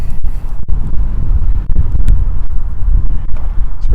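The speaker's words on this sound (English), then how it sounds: "It's a dry wind." Dry, gusty prairie wind buffets the microphone on a walk along a creek in Regina, Saskatchewan, a loud continuous rumble with sharp thumping gusts and no voices.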